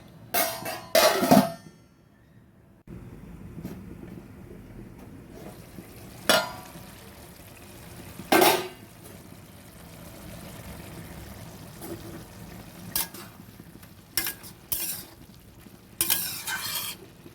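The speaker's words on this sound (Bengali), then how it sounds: "মোচাটা দিয়েছি, এবার ভালো করে একটু কষবো।" Banana flower (mocha) being stir-fried and stirred in a pan, with a faint low sizzle under scattered sharp scrapes and clinks of the spatula against the pan, busier toward the end.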